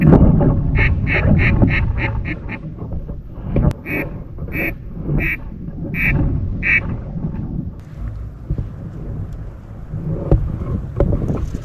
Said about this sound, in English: The ducks are flying.